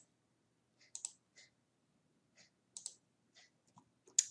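Computer mouse clicks while editing an image in Photoshop, a dozen or so quiet, crisp clicks scattered irregularly, some in quick pairs, close up with no talking.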